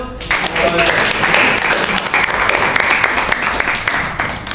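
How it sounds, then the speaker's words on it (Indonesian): Sustained applause from a classroom full of students after a presentation, loud and dense, with a few voices mixed in under the clapping. "Oke, beri tepuk tangan dulu."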